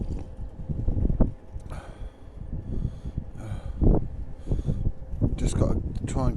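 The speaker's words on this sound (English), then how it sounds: "It's incredibly windy up on the roof today." Strong gusting wind on a rooftop buffets loudly and unevenly, with bursts of rumbling noise rising and falling, while a person talks over it.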